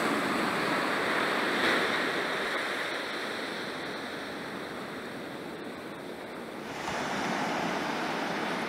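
Calm ocean waves washing onto a beach in the evening, a steady broad rushing wash that eases slightly, then swells again near the end, with no talking.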